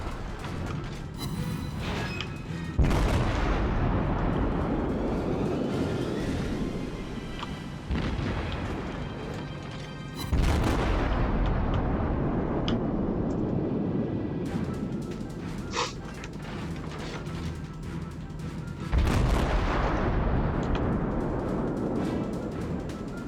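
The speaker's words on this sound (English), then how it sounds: "He's got return fire incoming." Naval guns in World of Warships roar in several heavy booming salvos a few seconds apart, each followed by long rolling rumble as return fire comes in, loud and close with no talking.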